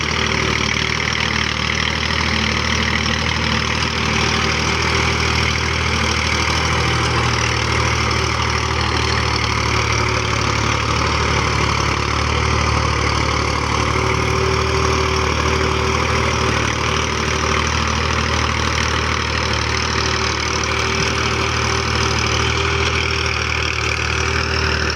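A 50 HP Massey Ferguson 240 tractor pulling a nine-tine cultivator, its diesel engine droning steadily and loud for the whole stretch, with a constant low rumble and no voices.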